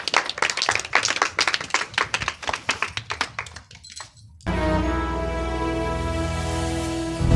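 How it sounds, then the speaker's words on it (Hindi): Enthusiastic clapping from an audience at an Independence Day celebration, welcoming a dance performance to a Tiranga song. Dense irregular claps ring out for about four seconds, then stop abruptly as loud music begins. "तो जोरदार तालियों के साथ उसका स्वागत करेंगे"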